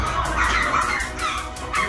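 Several dogs at an illegal breeding site barking, yipping and whimpering together in a loud, close, continuous chorus inside an enclosed space.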